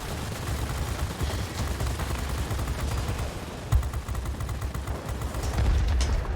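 Aircraft machine guns chatter in a World of Warplanes dogfight between American multirole planes, rapid continuous bursts with a heavier thump midway, loud over the drone of the engine.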